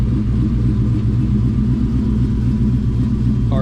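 A 1999 Ford Mustang with a swapped Coyote engine, built with a ported PI head, stage 2 Comp cams, full bolt-ons and 24-pound injectors, idles on a cold start with a steady, loud, rumbling low drone close by and no voices.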